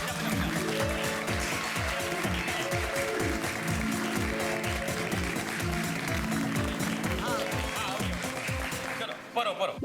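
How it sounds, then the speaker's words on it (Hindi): People clap together in advance for a poem reading, steady dense applause lasting several seconds before cutting off abruptly, with a voice cutting in at the end. "चलो तालियां बजा दो।"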